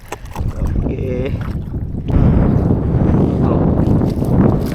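A small fishing boat rides on open water, with rushing wind and water noise that swells louder midway, and a brief voice is heard early on.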